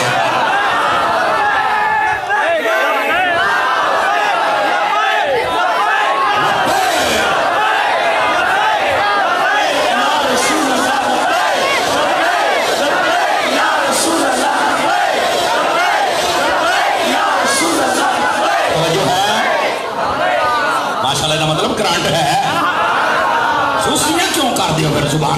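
A large congregation at a mosque gathering marking the martyrdom of Imam Hussain shouts devotional slogans in unison, a loud, dense and continuous wall of chanting voices that keeps up without a break.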